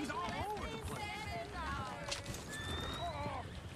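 Horses in the video game Red Dead Redemption 2 neighing and whinnying repeatedly, with clip-clopping hooves beneath, nearby and fairly loud amid other game activity and voices.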